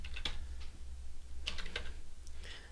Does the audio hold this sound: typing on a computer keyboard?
yes